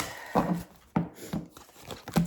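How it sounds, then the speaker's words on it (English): Quiet papery riffles and soft slaps come in a few short bursts, like cards being shuffled close by, with no talking. "lots of decks to shuffle"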